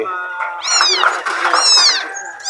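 A cat meows insistently close by, two drawn-out rising-and-falling cries in quick succession, loud and clear against a quiet background.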